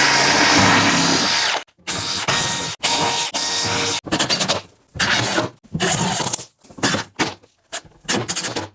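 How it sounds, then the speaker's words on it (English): A power drill drives 2-inch screws to fix a board to a frame, first in one long whine, then in a series of short, loud bursts separated by brief silences, close up and with no talk. "I'm going to attach this board to the frame. I'm going to switch down and use 2-inch screws."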